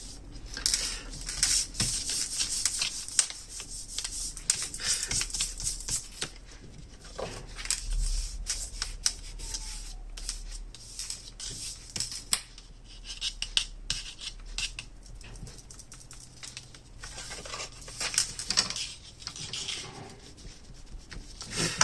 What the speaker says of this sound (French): ce qu'on fait, c'est qu'on vient gommer donc, les écritures que j'avais faites là